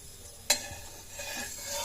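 A spatula stirs vegetables in hot oil in a kadhai: one sharp scrape against the metal, then a soft continuous sizzle with faint scraping as the stirring goes on.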